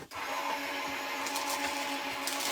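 A paper crafting die-cutting machine running as a sheet is fed through it, a steady mechanical whirring and rolling hum, close and even, with faint clicks and no voices.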